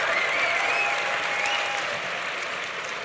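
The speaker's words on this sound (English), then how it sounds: "I think those must be the undergraduates clapping" Steady applause from an audience of undergraduates at a university debate, a dense even patter of many hands clapping at moderate distance, easing off slightly toward the end with no voices over it.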